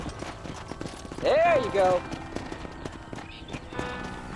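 A horse in Red Dead Redemption clip-clops along near a ranch stable, close steady hoof beats under a man's short spoken line, with a brief whinny-like burst in the middle.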